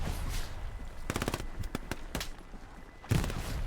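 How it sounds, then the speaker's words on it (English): Video game gunfire: rapid machine-gun bursts of sharp, close cracks in a few quick clusters, followed by a heavier single shot near the end, with no talking. "He got shot in the head."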